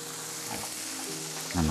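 Food sizzling in a hot pan on a stovetop flame, a steady hissing crackle throughout, with a louder low clatter at the very end as the pan is stirred or shifted.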